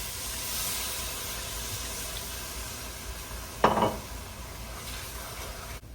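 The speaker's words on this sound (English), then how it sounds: "because I have an open bottle of white wine, I'm gonna deglaze with about a cup of it." A hot pan deglazed with white wine gives a soft steady hiss and sizzle, with a sharp burst of crackling and spatter partway through as the liquid hits.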